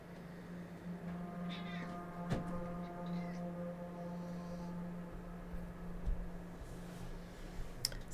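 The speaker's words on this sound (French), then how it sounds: "Ça c'est mon chat, hein. C'est pas dans le jeu." A pet cat meows faintly in a room, a few short soft cries over a steady electrical hum with occasional clicks.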